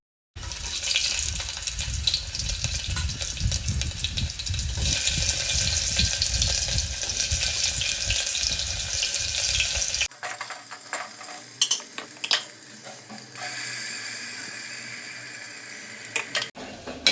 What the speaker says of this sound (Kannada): ಈ ಥರ ಚೆನ್ನಾಗಿ ಹಸಿ ವಾಸನೆ ಹೋಗೋವರೆಗೂ ಫ್ರೈ ಮಾಡ್ಕೋಬೇಕು ಎಣ್ಣೆ ಒಳಗೆ